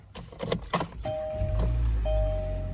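A car door and interior handled as someone gets into the car, with keys jangling, a few thumps and clicks, then a steady low hum and an electronic tone.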